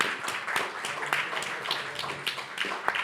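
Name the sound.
audience applauding a film producer at a round table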